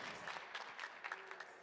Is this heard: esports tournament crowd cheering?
yes